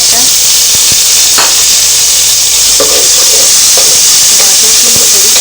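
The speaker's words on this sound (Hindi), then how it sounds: "प्याज हमारी हो चुकी है, अब हम इसमें डाल देंगे टमाटर।" Tomatoes are added to onions frying in a pan for chana chaat, producing a loud, steady sizzling hiss throughout with occasional scraping stir strokes, close up.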